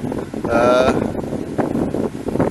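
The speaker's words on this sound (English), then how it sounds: "It's very, very windy here" Strong wind buffets the microphone in loud, gusty rushes at a OneTigris Tigersden Baker-style tent, with some fluttering noise mixed in.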